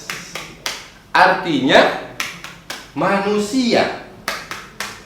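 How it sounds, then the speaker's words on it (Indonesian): Hands clap in a steady rhythm with the Surah An-Nas clapping song, sharp slaps spaced between and under a sung voice. "Coba sama-sama kita nyanyikan dan tepuk surat An-Nas."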